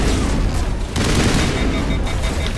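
Rapid sustained gunfire in the sci-fi shooter Mass Effect, a dense continuous rattle of shots filling the whole moment at high loudness.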